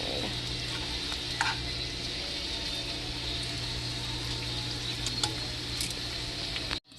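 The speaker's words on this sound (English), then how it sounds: "I'm going to give them a stir." Hamburger steaks with onions fry in a pan while being stirred, a steady close sizzle and bubbling with a low hum underneath and a few sharp utensil scrapes, ending abruptly.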